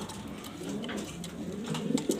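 Pigeons in a breeding loft, including a male sitting on eggs, giving soft low throaty coos that swell near the end, quiet against faint background noise.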